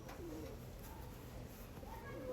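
Pigeons, a pair of Star Kalanka birds, coo softly and low in a loft, a faint burbling call repeating through the short stretch.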